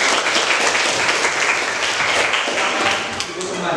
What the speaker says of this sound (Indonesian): Yang beri aplaus dulu untuk teman-teman.